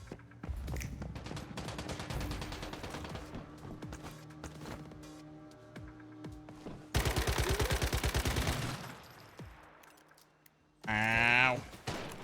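Rapid bursts of gunfire from steel rounds, a dense fusillade of sharp cracks through the middle with scattered shots before and after, ending in a loud harsh burst; voices are heard along with it.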